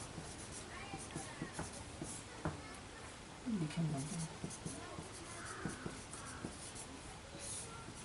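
Handwriting during a Hindi-medium class 10 maths lesson on Euclid's division algorithm, pen or chalk strokes scratching steadily and faintly, with a teacher speaking over the writing throughout.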